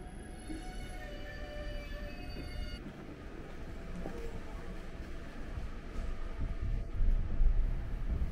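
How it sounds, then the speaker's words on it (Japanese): A local train pulls out of Shimada Station in Japan, heard from inside with a low rumble of wheels and motors that builds gradually as it gathers speed, with faint tonal whines fading early on. "電車は12時24分に島田駅を出発しました。"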